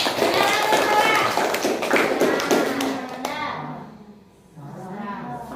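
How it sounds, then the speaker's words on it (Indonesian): Children in a classroom clap together during a lesson, a dense burst of quick hand claps lasting about three seconds before thinning out, with a teacher's voice and kids' chatter around it. "tepuk tangan dulu teman"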